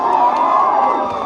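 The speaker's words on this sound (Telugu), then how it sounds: "వారికి గట్టిగా ఒకసారి చప్పట్లు కొట్టాలి అందరం కూడా." A large crowd at a political felicitation event for newly elected village heads makes a brief, loud, continuous burst of cheering and applause noise.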